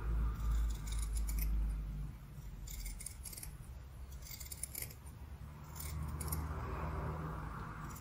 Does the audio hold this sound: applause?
no